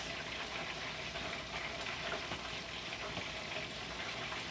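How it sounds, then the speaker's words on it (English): Brussels sprouts sautéing on a home stove with onion and butter sauce, a steady, even sizzle and crackle that runs unbroken throughout. "I got Brussels sprouts sauteing on the stove right now as we speak"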